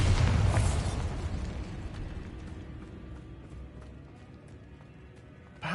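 Bombarda blasting spell in Hogwarts Legacy, a loud explosive burst at the start that decays into a long crackling rumble of debris, with a small thump near the end.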